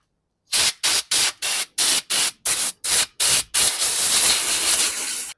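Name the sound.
spraying brake cleaner on van brakes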